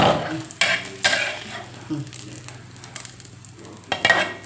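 A Thai omelette fries in hot oil with a steady crackling sizzle, broken by several sharp bursts of spattering and scraping as it is turned and lifted.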